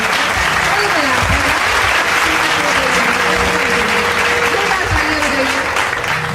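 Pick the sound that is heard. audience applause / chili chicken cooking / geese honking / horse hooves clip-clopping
audience applause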